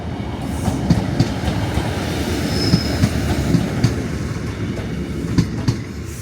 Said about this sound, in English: Apart from the freight, they actually speed through Newcastle.